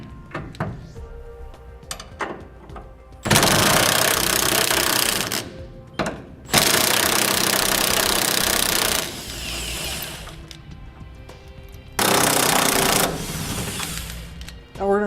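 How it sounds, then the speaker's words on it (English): Bumper beam bolts on a 2016 Chevrolet Silverado are loosened with a 21mm socket tool, heard as three loud, sustained rattling bursts separated by quieter clinks and handling knocks. "Now I'm going to be using a 21mm socket and wrench to take these loose."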